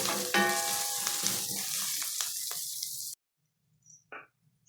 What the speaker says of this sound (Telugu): కొద్దిసేపు వేయించుకున్నాము ఉల్లిపాయ ముక్కల్ని